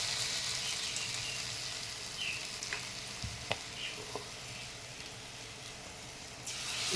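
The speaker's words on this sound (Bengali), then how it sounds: "এখন এই ফুলগুলোকে ব্যাটারের মধ্যে ডুবিয়ে একটা একটা করে তেলের মধ্যে ছেড়ে দেব।" Water lily flowers dipped in batter sizzle and hiss steadily in deep frying oil, a constant close crackle with a few small pops and clicks and no talk.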